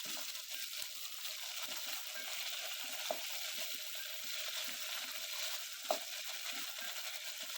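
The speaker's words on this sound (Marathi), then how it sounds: "आता यामध्ये आपण टमॅटो घालायचा आहे आणि शिमला मिरची घालायची आहे" Tomato and capsicum stir-fried in a pan for pavta rice, a fairly quiet continuous sizzle with regular scraping stirs and a couple of sharper utensil knocks; no talking.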